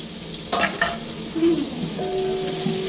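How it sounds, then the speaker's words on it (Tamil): About one and a half kilos of onions fry in a large pot for biryani, sizzling steadily while a utensil stirs and scrapes against the metal in a few distinct strokes, heard up close. "வெங்காயம் ஒன்றரை கிலோ போட்டிருக்கோம்"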